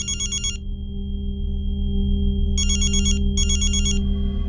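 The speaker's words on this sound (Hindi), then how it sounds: "हाँ देखो तो मनोज का फोन है क्या?" An electronic phone ringtone trills in three bursts, one at the start and two close together later, over a steady low hum.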